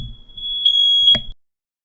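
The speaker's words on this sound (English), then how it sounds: "my fire alarm's going to be going off a little bit here and there" A home fire alarm gives a sustained high electronic beep lasting about a second, loud and close, with faint background noise and no talk.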